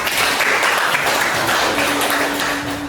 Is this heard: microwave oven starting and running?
no